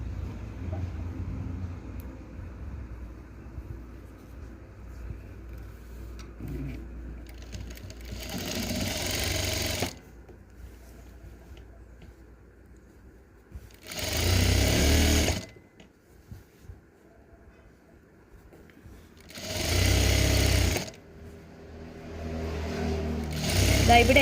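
A sewing machine stitches the side seam of a V-neck kurti in three loud, steady bursts of whirring, each a couple of seconds long, separated by quieter stretches of low background noise.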